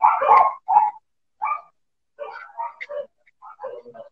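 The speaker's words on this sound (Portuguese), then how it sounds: "eu vou sair daqui que o cachorro só latindo" A dog barks in short repeated bursts, loud and close, with pauses between volleys and some yipping at the end, heard alone without talk.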